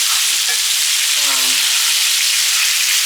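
Constant loud sizzling of onions and squash frying in a hot cast iron pan without flour, with a few faint clinks and stirring noises underneath.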